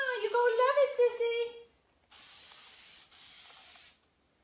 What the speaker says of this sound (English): This sprayer is from Hobby Lobby. It's in the art aisle.